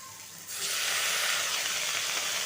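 Pumpkin greens dropped into a hot pan and stirred, setting off a sudden loud sizzle that holds steady and bright after a short quieter moment.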